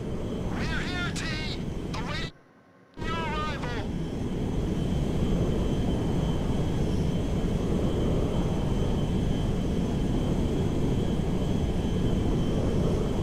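A cargo jet's engine roars in the GTA V video game, a loud steady broadband drone throughout, with short voice-like tonal bursts near the start and a brief dropout of sound.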